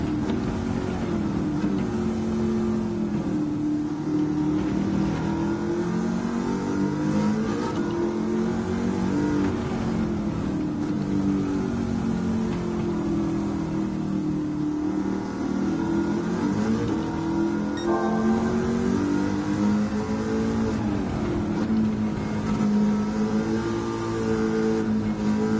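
Supercharged Ford Mustang Mach 1 engine in Gran Turismo 7, fitted with a high-torque supercharger, droning and revving steadily at close range for the whole stretch, its pitch rising and falling slightly with no talk over it.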